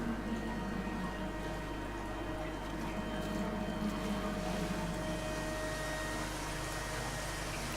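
A waterfall in the video game Dear Esther gives a steady, even rushing wash of water that holds without a break the whole way through, moderately quiet and with no voices over it.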